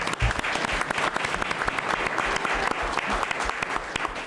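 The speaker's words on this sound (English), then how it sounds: "A nice round of applause for these folks." A crowd applauds at a sports awards gathering honoring local people, with loud, steady, close clapping that runs unbroken for a few seconds, sharp individual claps standing out.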